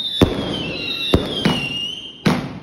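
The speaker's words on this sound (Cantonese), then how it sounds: "放煙花啊！" Fireworks go off in four sharp bangs spaced unevenly over a few seconds, with a high whistling tone running underneath between the bursts.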